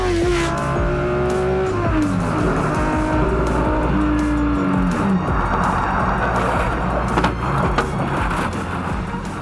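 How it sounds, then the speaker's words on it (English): A Ferrari 308 Group 4 race car on the Tour Auto road rally brakes late, its engine note dropping through loud downshifts with tire noise, the roar steady and close throughout. "Olivier Breitmeier brakes a fraction of a second too late, but has the good reflex to choose the escape route rather than crashing."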